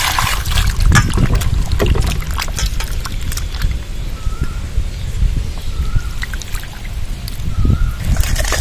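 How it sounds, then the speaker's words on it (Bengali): Water trickles and splashes steadily as mango pieces are rinsed and the lime water is drained off, a close continuous wet wash with a few sharper pours. "চুনের জলটা ফেলে দেবো নর্মাল জল দিয়ে ভালো করে ধুয়ে নেবো"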